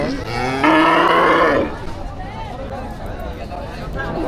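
A single loud, drawn-out moo from cattle at a weekly cow market in Demra Sharulia rises above the low murmur of the crowd, then fades back into the background noise.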